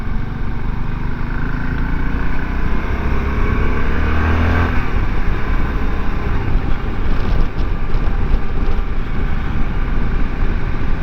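A 2023 Voge DSX650 motorcycle rides round a roundabout in third gear, its engine giving a steady, loud low rumble mixed with wind buffeting close to the rider.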